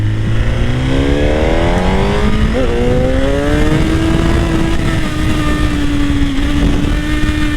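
A Suzuki GSX-R 1000 sport motorcycle accelerating hard, its loud close engine note climbing steadily through the revs in one continuous rising howl with a brief shift blip, and no voices.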